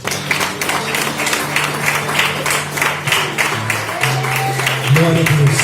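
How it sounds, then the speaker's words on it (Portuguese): Church congregation clapping during an evening service, steady rhythmic applause over sustained music with a voice speaking over it. "Aplauda o Senhor nessa noite"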